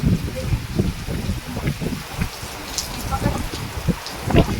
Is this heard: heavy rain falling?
yes